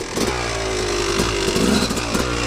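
A Yamaha YZ250 two-stroke dirt bike revs hard with its rear wheel spinning for lack of traction, a loud, buzzy engine note rising and wavering close by for a couple of seconds.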